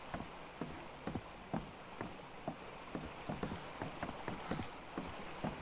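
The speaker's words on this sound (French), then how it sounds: "Ah oui, il pleut dans la maison" Rain falling inside a house in the video game ARK Ragnarok, a soft steady patter with irregular louder drips tapping on a hard surface, quiet and continuous with no talking.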